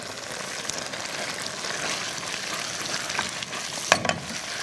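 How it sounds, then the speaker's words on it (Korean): Noodles stir-fried with jjajang sauce in a pan for tray-style jjajangmyeon give a steady close sizzle with scraping stirs and a few sharp clinks near the end, with no talk. "달달 볶아주는 거예요."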